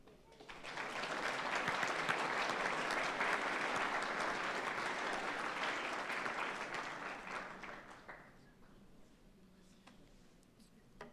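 Sustained applause from an audience at a winter sports awards ceremony honoring the Linsly hockey team, steady and full for about eight seconds before thinning out and fading into room noise.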